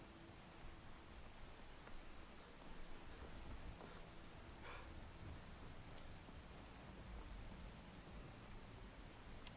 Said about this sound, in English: Ah, it's rain.